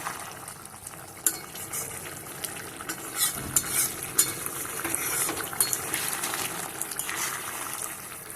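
Morola fish curry being stirred in a pan, a wet frying sizzle under repeated scraping and knocking of a spatula against metal, irregular and close, growing busier midway, with no one speaking.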